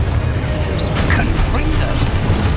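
Spell blasts in Hogwarts Legacy rumble and crackle continuously in a loud, dense roar of magical explosions, with a voice speaking over the din.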